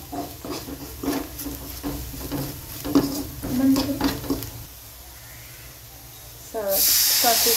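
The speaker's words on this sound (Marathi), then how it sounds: "दीड ग्लास पाणी घातलंय साधारणपणे।" Water is poured into a pan of sizzling onion curry with crushed peanut and spices. Crackling frying and stirring with a voice come first, then a sudden loud, steady hiss as the water hits the hot pan near the end.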